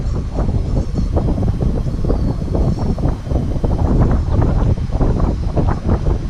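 Strong wind buffets the microphone at an outdoor carp-fishing camp, a heavy, gusting low rumble in uneven pulses that continues throughout, with no talking.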